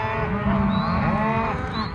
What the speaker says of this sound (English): ranchers move their cattle to public grazing lands so the cattle can eat, like in this recent Wyoming cattle drive